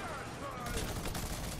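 Gunfire in Fortnite, a continuous rattle of rapid shots mixed with game effects, loud and dense across the short stretch.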